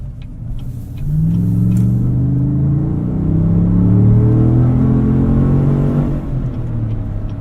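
A 2018 Chevrolet Tahoe RST's V8 engine rumbles deep and loud from inside the cabin, rising steadily in pitch under acceleration for several seconds before easing off slightly near the end.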